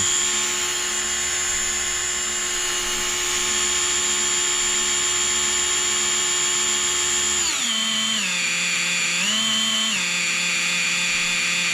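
The electric motor of a Mercedes G500 1/12 RC model kit (MN-86K) runs in on low voltage: a continuous high whine that steps down in pitch partway through and then wavers between two levels.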